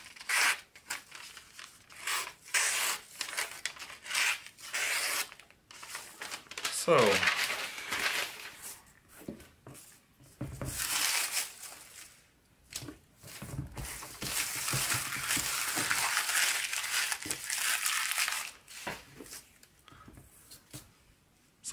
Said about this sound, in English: It will slice all types of paper, perhaps not flawlessly, but it is paper slicing sharp.